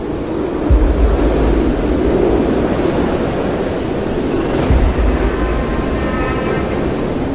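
Storm waves and strong wind from Super Typhoon Haikui lash the Taitung City coast in Taiwan as a loud, unbroken roar of surf and gusts, with a couple of heavier wave surges and no voices.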